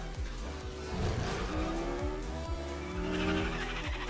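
A car drives and skids in the video game Rocket League, with a steady engine drone and repeated tire squeals at close range, loud and continuous, with no talk over it.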